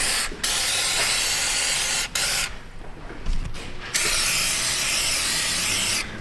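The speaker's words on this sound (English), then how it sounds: "We'll spritz down the backing plate. That side of the knuckle." An aerosol can sprays loud, close hissing bursts onto a rusty brake backing plate and steering knuckle: a long spray, a short one, a brief pause, then another long blast.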